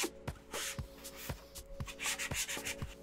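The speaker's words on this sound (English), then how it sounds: "take our sanding sponge, that's sanding sponge, and go over this whole thing and sand it down" Close, rhythmic rubbing strokes of a sanding sponge across a Sister of Battle helmet model, a steady back-and-forth scratch with a faint hum beneath.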